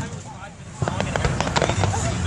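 WEBN fireworks bursting outdoors at a distance, a series of dull thumps and crackling pops over steady crowd hubbub and chatter nearby.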